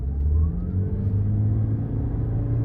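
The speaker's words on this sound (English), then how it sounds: "So the power of the Prius can actually take off pretty fast when it is in power mode" A Toyota Prius hums and rumbles steadily as it picks up speed in power mode, a low continuous drone with a faint rising whine.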